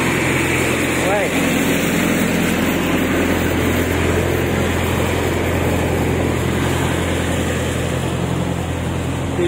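A compressor or generator runs nearby on a street in Odesa, making a loud, constant, droning engine hum with a strong low rumble that never lets up, while people talk over it.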